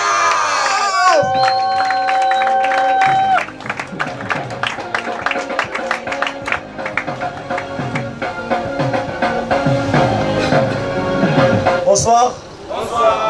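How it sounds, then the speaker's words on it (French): Audience at a Congolese comedy club cheering, shouting and applauding loudly alongside lively music, with a voice on the microphone over the crowd noise. "Est-ce qu'on peut faire un tonnerre d'applaudissements pour Deo Gracias?"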